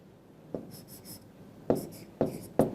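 An HB pencil draws lines on paper: four quick scratchy strokes, one near the start and three close together near the end, near and fairly clear in a quiet room.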